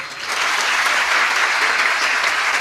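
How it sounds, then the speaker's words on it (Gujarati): An audience at a Gujarati motivational talk breaks into loud, sustained applause, dense and even clapping that carries without pause for a couple of seconds with no voices over it. "આ મા બાપને એક વખત તાળીઓથી વધાવો"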